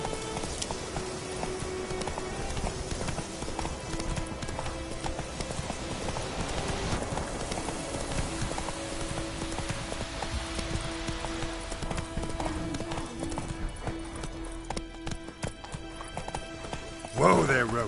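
Roach, a horse in The Witcher 3 video game, trots with steady rhythmic clip-clop hoofbeats over a busy game soundscape, and a whinny joins in, with game voices heard now and then.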